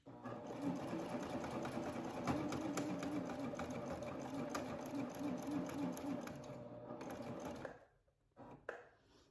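A serger sewing an overlap seam on a fabric bodice, a fast steady mechanical whir running close and continuous for several seconds, then stopping abruptly with a couple of soft clicks afterward.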